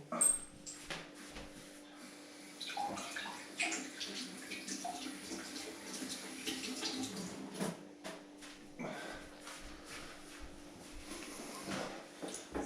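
Tap water runs and splashes quietly to cool a freshly cut silver coin, a faint, uneven wash with small clinks and handling noises close by.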